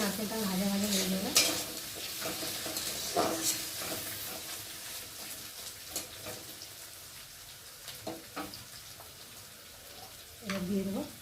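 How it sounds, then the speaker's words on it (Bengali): Grated coconut and potato fry in a pan with a soft sizzle, broken by scraping stirs and occasional clinks of the spatula, fairly quiet and close with no talk. "আলুর সাথে নারকেলটা ভাজা ভাজা হয়ে যাবে।"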